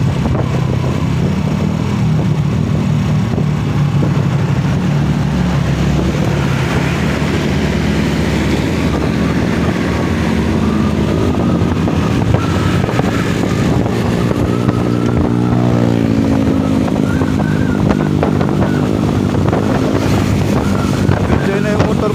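A motorcycle cruises along a mountain road on a group charity ride, its engine droning steadily under heavy wind rush close to the microphone, with passing traffic and a brief shift in engine pitch partway through.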